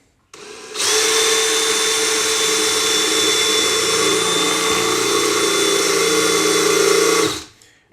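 A DeWalt cordless drill bores with a drill bit during a bench test, spinning up sharply to a loud, steady high-pitched whine that holds for several seconds before cutting off abruptly.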